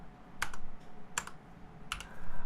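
Computer keyboard keys are struck one at a time while an IP address is entered, three sharp, separate clicks spaced apart, close to the microphone, over faint background hum and no talking.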